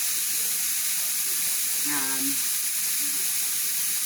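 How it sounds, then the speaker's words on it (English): 80% lean ground beef browning in a pan, a steady soft sizzle and hiss with a brief stir or scrape in the middle, no speech. "You just gotta get it browned"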